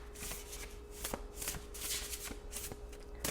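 A deck of Mindful cards being shuffled by hand, a quiet run of soft riffles and papery snaps coming in uneven bursts, close to the microphone with no voices.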